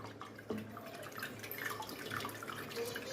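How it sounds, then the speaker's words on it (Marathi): Whey drips and trickles steadily from a knotted cloth bundle of curdled milk while making kalakand, a soft continuous watery patter close by with occasional louder drops. "आणि त्याच्यातलं पाणी सर्व निथळून काढायचं।"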